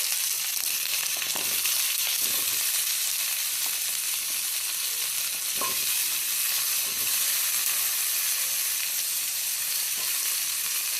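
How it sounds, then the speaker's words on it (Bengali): Chopped potato and pumpkin fry in tempered oil for a mixed-vegetable curry, giving a steady, loud, even sizzle throughout with a few soft stirring knocks and no voices. "এবার এর মধ্যে দিয়ে দেওয়া হবে কেটে রাখা সবজিগুলি। কেটে রাখা আলু, এরপর কুমড়ো"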